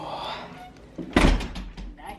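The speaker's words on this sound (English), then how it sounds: "Oh, the door slammed." A door slams shut with a single loud thud in an upper-floor apartment reached by elevator, with people talking before and after the impact.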